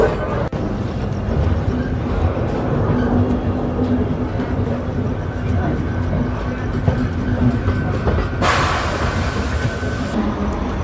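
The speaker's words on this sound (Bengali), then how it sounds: "ঠিক 11:40 আমাদের ট্রেন ছেড়ে দিল হাওড়া থেকে" A passenger train that has just left Howrah station runs along the track, heard from inside a coach as a steady, loud rumble and rattle. A brief hiss rises near the end. No voices speak.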